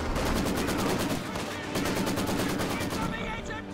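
Sustained machine-gun fire in Company of Heroes 2, a dense rattling burst of rapid shots running continuously under heavy battle noise, with a voice talking over it.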